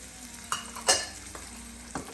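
Garlic and pepper frying in a pan for a salami pasta sauce: steady close sizzling with a few clinks and scrapes of stirring against the pan.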